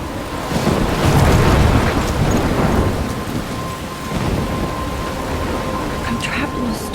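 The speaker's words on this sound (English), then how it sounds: "I'm trapped in a storm?" A thunderstorm near a lighthouse: a deep rolling thunder rumble swells early and then fades, over steady heavy rain and wind gusting throughout.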